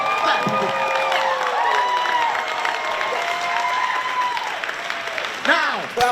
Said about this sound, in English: Clap, clap for me, clap for me.